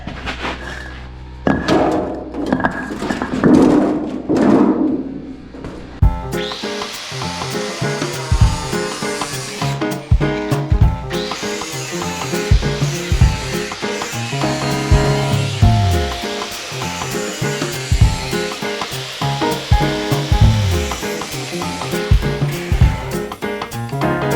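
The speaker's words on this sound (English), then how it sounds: "Let's cut this piece out once." An angle grinder cuts out a piece of rusted floor metal from an International Scout during a floor repair, giving a loud, sustained whine with a harsh metallic rasp that holds through most of the stretch with a few brief pauses.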